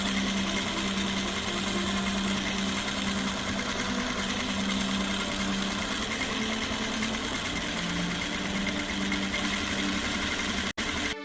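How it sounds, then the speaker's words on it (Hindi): A sewing machine runs steadily at speed, a fast even mechanical whir and chatter up close, continuing without pause until it stops abruptly at the end. "वो एक सिलाई मशीन लेकर लेडीज सूट सिलने लगती है"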